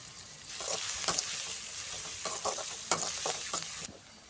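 Chopped onion, garlic and crushed ginger sizzle in hot oil for an egg masala, a steady crackling fry broken by sharp stirring scrapes, faint and close.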